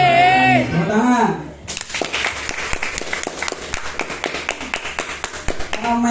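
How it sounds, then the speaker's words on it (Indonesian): An indoor audience at a talk breaks into applause after someone speaks, a dense burst of hand clapping that follows his voice and continues steadily to the end. "Tepuk tangan."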